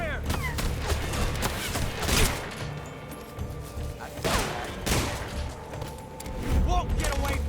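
Gunfire from the video game Metal Gear Solid Delta: Snake Eater, a steady battle of shots and bursts with a few louder blasts near the middle, under game music and voices.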